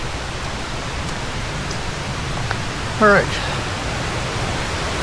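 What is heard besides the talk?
rushing stream or waterfall in a rainforest after rain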